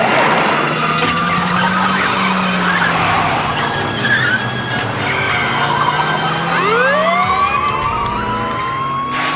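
Car chase in a French-dubbed TV police drama, with loud tires skidding and squealing over a roaring engine, sirens wailing throughout and a sharp rising screech near the end.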